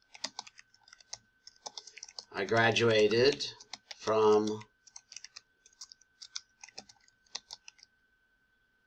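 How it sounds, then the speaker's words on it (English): Quick clicking keystrokes on a small computer keyboard, close and light in uneven bursts, with a short stretch of someone speaking in the middle. "I'm actually typing on a pretty small keyboard right here"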